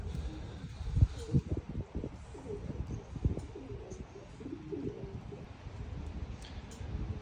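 Homing pigeons cooing at their loft, soft repeated low coos mixed with light chirps and rustling, close by and fairly quiet, with no talking.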